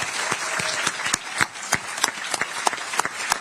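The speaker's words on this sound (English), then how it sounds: "you can applaud now if you would like to." Audience at a library candidate forum clapping, a fairly sparse crowd whose applause carries distinct sharp individual claps in an uneven rhythm, moderately close and without talk.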